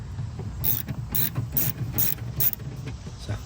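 Quick metallic ratchet clicks in bursts as a ratchet wrench turns a nut on a 1/2 inch terminal of an SOK 206 amp hour battery, close and crisp with short pauses between strokes.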